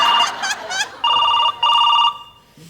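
A telephone rings on a Marathi comedy show stage in loud, repeated electronic bursts with short gaps between them, after brief laughter-like sounds at the start.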